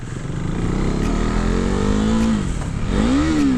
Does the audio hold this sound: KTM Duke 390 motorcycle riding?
yes